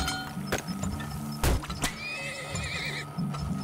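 Horse neighing and hoof clatter from the oil-drilling video game Turmoil, a bright whinny sweeping over steady clip-clopping hooves and low game background sounds, no speech.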